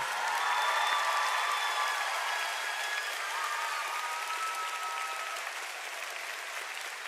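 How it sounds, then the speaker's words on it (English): Sustained audience applause in a large hall at a high school graduation ceremony, steady dense clapping from many people with a few faint whistles, slowly tapering. "Let's give these guys a round of applause."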